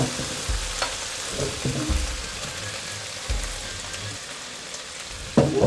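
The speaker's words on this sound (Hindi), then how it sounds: "चिकन को करते हैं अच्छी तरह से फ्राई।" Marinated chicken pieces fry in a pan, giving a steady close crackle and sizzle with a few soft stirring thumps and a sharper clatter near the end.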